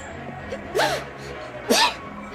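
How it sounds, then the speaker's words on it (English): A woman sneezes twice, two sharp separate bursts about a second apart, each with a quick breathy intake before it, heard close against a quiet room background. "That's 2 sneezes."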